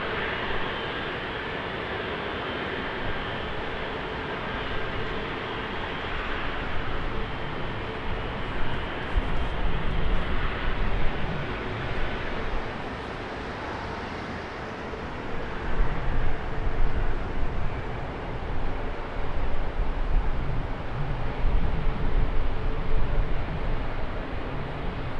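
Kuwait Airways Airbus A320 at foggy Schiphol airport, a broad distant jet roar building gradually and swelling louder toward the end, steady rumbling noise with no talk.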